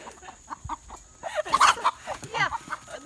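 Free-range chickens on a farm clucking close by, a string of short separate clucks that builds into a louder cluster of squawks midway, with a bit of talk mixed in.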